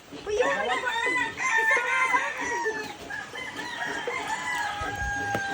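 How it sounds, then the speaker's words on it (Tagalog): Several chickens cluck and a rooster crows nearby, with overlapping calls and faint background voices. "yan ang manok"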